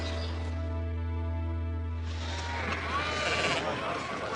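Sheep bleat on a farm, with one long, loud, wavering bleat up close, then a rougher stretch of overlapping flock noise and rustling.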